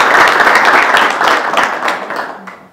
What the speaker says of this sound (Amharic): በትክክል ተመልሷል። አጨብጭቡለት።